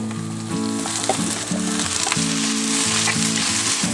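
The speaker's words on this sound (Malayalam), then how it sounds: "അപ്പം ഇത് ഞാൻ നല്ലോണം വഴറ്റണം. അതിന് നമുക്ക് ഒനിയൻ ഇട്ട് കൊടുക്കാവുന്നതാണ്." Onions sauté in a pan for gobi manchurian, a loud continuous sizzle and crackle with a steady low hum underneath, no voices.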